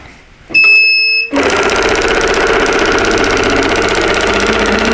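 An embroidery machine stitching a poinsettia tree skirt: a few short beeps, then a loud, steady, rapid mechanical stitching hum with a fast regular needle rhythm, close and continuous.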